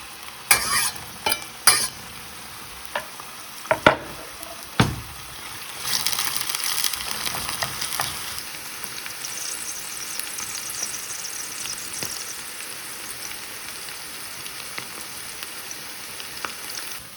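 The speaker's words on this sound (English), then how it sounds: "Now the onions have been sizzling for a minute. I'm going to add the pancetta." Pancetta and onions fry in a pan, starting with scattered clicks and knocks of stirring, then a steady sizzle settles in and runs to the end without talk.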